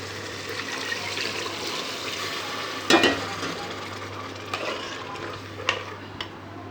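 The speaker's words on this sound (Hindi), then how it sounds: "तो अब हम इसमें पानी डाल देंगे" Water is poured into qeema frying with chana dal in a pan, giving a steady hiss and sizzle with a louder splash near the middle and a few brief clinks and stirs afterward.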